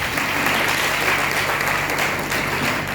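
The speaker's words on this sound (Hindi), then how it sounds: "अपने आप के लिए एक बार जोरदार हाथ ताली होना चाहिए" An audience at a Smart Value training session clapping for themselves, loud, dense applause from many hands that holds steady for three seconds, with no voices on top.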